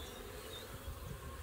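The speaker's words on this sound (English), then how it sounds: "take a scoop of bees out of my bulk bee bucket" Honey bees buzz in a soft, steady drone as a scoop of them is taken from a bulk bee bucket to start mini nucleus hives in a backyard apiary, faint and continuous with no talking.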